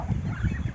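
A small group of ducks close by gives off a string of low, busy quacks and honks that overlap and run steadily through the moment.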